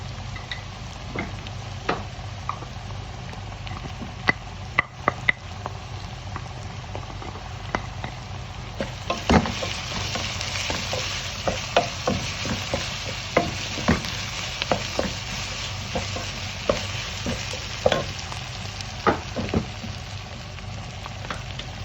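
Onions and ginger fry in a pan for a pork curry, a steady close sizzle with repeated sharp scrapes and clinks of a spoon stirring, growing busier partway through; no voices.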